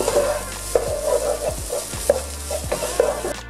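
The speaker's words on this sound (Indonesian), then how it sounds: "Aduk-aduk lagi sampai bumbu tercampur semua." Korean-style fried rice with duck egg being stirred in a pan: a steady sizzle runs under repeated scraping strokes of a utensil against the pan, with several sharper clicks and no talking, close and fairly loud.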